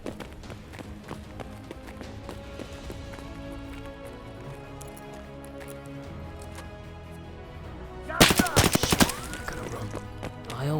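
Gunfire in the Escape from Tarkov Labs video game arrives as a sudden burst of sharp rapid shots late in the clip, following a long stretch of running footsteps and background game ambience.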